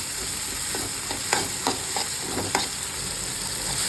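Tomatoes with salt sizzle steadily in a pan for an okra tamarind curry, with soft intermittent scrapes and taps of stirring heard close up.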